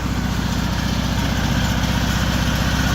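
A riding lawn mower engine drones on mountain trails, a steady, loud and fairly rough putter running without a break close by.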